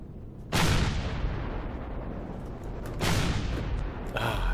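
Spaceship rockets firing in the space game Empyrion: two loud, roaring booming blasts, each decaying into a long rumbling hiss, with a third burst starting near the end.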